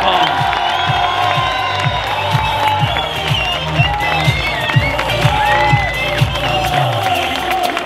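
A large crowd in Compiègne cheers and applauds a cyclist at a Paris-Roubaix team presentation, with continuous clapping and shouting beneath a loud announcer's voice over music.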